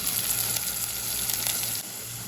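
Ground spice paste for a prawn and raw mango curry poured into a hot pan with curry leaves, giving a steady, moderately quiet sizzle that holds for a couple of seconds without speech.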